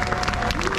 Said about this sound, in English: How about another round of applause for those lovely hula dancers?